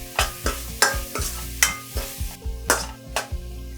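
Onions and half a cup of chopped small tomatoes sauté for chicken kulambu, a steady sizzle broken by about nine sharp, rhythmic spatula scrapes against the pan, close and fairly loud, with no talking.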